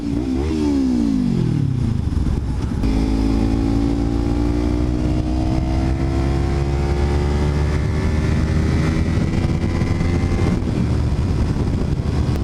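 A 300 motorcycle being ridden, its engine loud and continuous close by. The pitch dips early on, then climbs steadily in rising revs, over a constant rush of wind.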